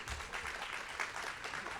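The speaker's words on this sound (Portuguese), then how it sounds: "Palmas para a Roberta." A live audience at a literary fair applauds briefly for a guest mediator, a short, faint burst of scattered clapping that stays even for under two seconds.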